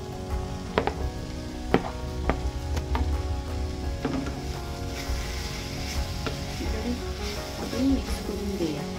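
Capsicum sizzling and frying with masala in a pan for Goan-style chicken chilly, with steady close sizzle and scattered clicks and scrapes of stirring throughout.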